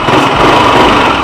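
Yamaha NMAX 155 scooter engine running loud and close, a steady continuous mechanical hum with a constant throttle drone and no pauses, heard alone with no voices over it.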